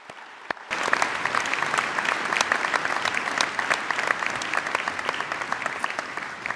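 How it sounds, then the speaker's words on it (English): An audience at a graduation ceremony breaks into applause after a brief quiet start, steady clapping from many hands filling the hall and gradually thinning toward the end. "Let's give him a round of applause."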